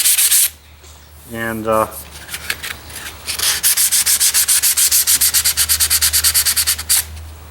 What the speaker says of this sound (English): So you just sand it up real good.